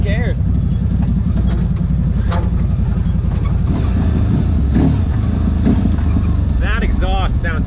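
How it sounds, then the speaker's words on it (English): Deep, steady exhaust drone of a CFMOTO Z-Force 950 side-by-side driving off-road at Windrock in Tennessee, loud and continuous throughout, with a person talking briefly over it near the end. "That exhaust sounds great."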